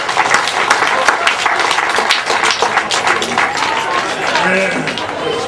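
A crowd at a grasstrack motorcycle race meeting claps for the top three finishers in the 350 class, steady applause over murmuring voices throughout.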